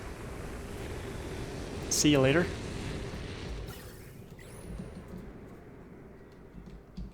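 Rocket launch in Oxygen Not Included, a broad steady roar with a rising whistle sweeping upward near the two-second mark, then fading into a lower rumble while someone speaks briefly over it.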